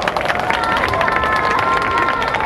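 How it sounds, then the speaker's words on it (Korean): Audience applause and cheering from a crowd at a K-pop festival stage in Seoul, a steady dense wash of clapping filling the whole moment, loud and continuous. "여러분 다시 한번 큰 박수 보내주시기 바랍니다."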